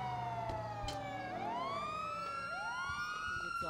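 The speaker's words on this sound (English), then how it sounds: "Can you please turn the sirens off, please?" Video game emergency sirens wail loudly and steadily, overlapping tones swooping up and down, with faint background noise.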